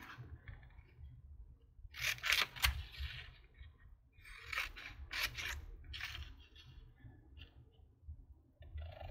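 Scissors cut apart printed game cards in a few quiet bursts of close snipping and paper rustling, separated by brief pauses.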